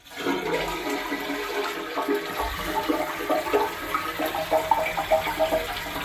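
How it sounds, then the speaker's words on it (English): A household toilet with rusted mounting bolts flushing close by, a loud rushing surge of water that swirls and gurgles steadily for several seconds, heard alone without talking. "I'm going to flush my toilet"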